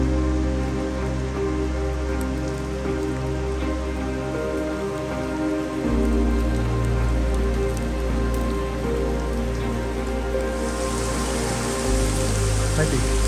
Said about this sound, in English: Might be starting to hail.